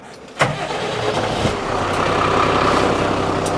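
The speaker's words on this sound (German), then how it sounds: "So, du startest das Auto." A Phoenix Top X Alkoven motorhome, a truck-based camper with air brakes, cranks with a sharp start and its engine settles into a steady, loud, close diesel idle with no talking.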